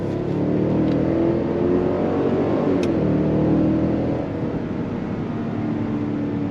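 A Cadillac Escalade Sport's 6.2-liter V8 gives a loud, steady low roar from inside the SUV as it accelerates, easing off slightly near the end, with a brief high click partway through.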